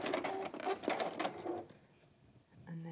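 A sewing machine runs a few short back-and-forth back-stitch bursts on the foot of a Tilda goose toy, close and fairly loud, then stops, leaving a quieter stretch.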